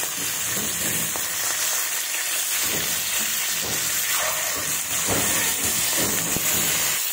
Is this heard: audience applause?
no